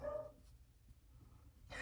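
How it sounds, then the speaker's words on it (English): A few short dog barks, one at the start and another near the end, moderately close, with a quiet gap between them. "He's barking at Trisket, I guarantee you."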